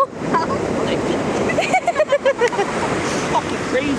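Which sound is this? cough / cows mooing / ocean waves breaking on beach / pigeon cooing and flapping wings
ocean waves breaking on beach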